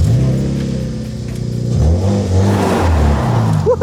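An MEV kit car's engine revs up loudly and the car pulls away, the engine note rising and surging through acceleration, close and alone with no talk.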